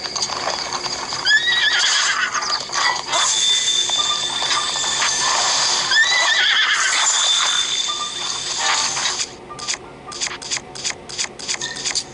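A horse neighs loudly twice amid steady ambience in The Legend of Zelda game, then a series of sharp, rhythmic clicks near the end.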